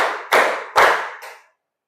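Students in a classroom ice-breaking game clap three times together, three sharp unison claps with the last one softer, then silence.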